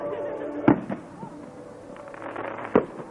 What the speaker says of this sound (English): Set fireworks.